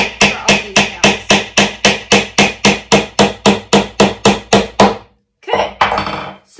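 Nails are driven into a wooden birdhouse with a hammer, a fast even run of about twenty loud, close blows, then a short pause and two or three final strikes.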